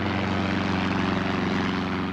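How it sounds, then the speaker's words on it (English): A propeller plane flies through mist over countryside between Hatfield and Welwyn outside London, coming in to land: a loud, steady engine drone with a throbbing low hum that holds unbroken and fills the whole moment. "A plane flying through the mist which shrouded the countryside between Hatfield and Welwyn, just outside London, and coming into land."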